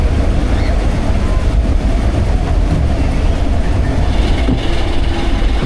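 A roller coaster train runs along its track at PortAventura World, a loud, steady rumbling roar with faint rhythmic clacking, continuous throughout and heard close by from a nearby vantage point.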